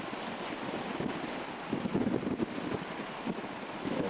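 Tidal ocean water washing around a large boulder at Fundy National Park, a steady close surge with soft swells and wind buffeting the microphone throughout.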